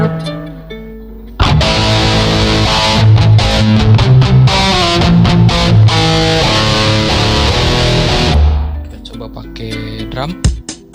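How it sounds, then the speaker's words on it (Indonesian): An electric guitar plays through a cheap mini distortion effect pedal, loud, gritty chords and notes ringing for several seconds after a quiet start, then fading out. "Oke, kita coba distorsi."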